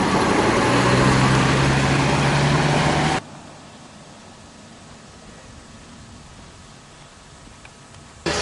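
A bus engine idles loudly and steadily at close range for about three seconds, then the sound drops abruptly to a quieter, muffled rumble before rising again at the very end.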